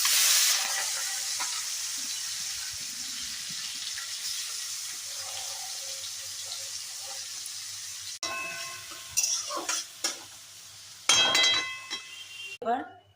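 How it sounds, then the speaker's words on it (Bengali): Shrimp frying in a pan, a steady soft sizzle running throughout with a few brief clattering and stirring sounds near the end; a voice speaks quietly underneath. "এইবার চিংড়ি মাছগুলো ভেজে নেব।"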